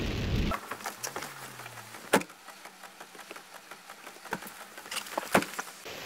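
Steady patter of torrential rain with strong winds, scattered sharper drops and taps, a broadband wash throughout, plus a brief low engine hum early on.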